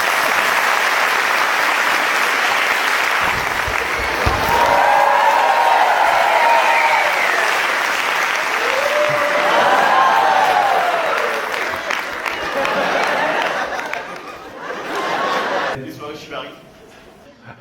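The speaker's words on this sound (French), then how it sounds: "que vous pouvez applaudir." A comedy show audience applauds warmly for a long stretch, dense clapping mixed with cheers and chuckles while a performer talks over it, tapering off near the end.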